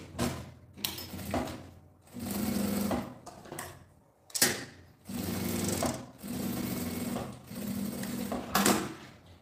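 A domestic sewing machine stitches bias binding onto a makeup bag in several rapid whirring bursts of a few seconds each, separated by short pauses and soft handling clicks, close and clear.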